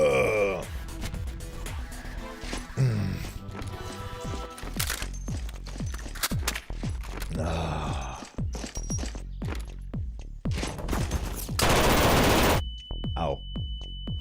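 Gunfire in the video game Underyella: rapid sharp shots crack out in quick succession over busy game sounds, with a loud dense burst near the end.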